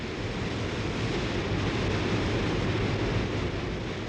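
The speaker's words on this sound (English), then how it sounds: "the Zambezi plunges over a cliff and thunders into a chasm" Victoria Falls, where the Zambezi river plunges over a cliff into a deep, narrow chasm, producing a continuous, dense, loud roar of falling water with no breaks.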